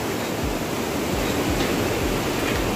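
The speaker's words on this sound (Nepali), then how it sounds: "त्यहाँ खोला रहेछ भवाल खोला" Bhawal river rushing near a suspension bridge on a Gosaikunda trek, a steady broadband roar of flowing water filling the whole clip with no talk.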